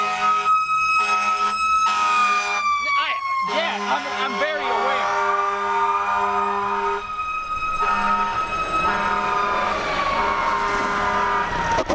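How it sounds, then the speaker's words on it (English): A fire truck siren wails close by in traffic, its rising and falling tone sweeping steadily through the whole stretch as other vehicles rumble; people talk briefly over it. "This is a fire truck now."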